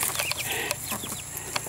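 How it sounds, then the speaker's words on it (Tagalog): Chickens cluck in short, scattered bursts nearby, with a faint high hiss of background insects. "Mga manok."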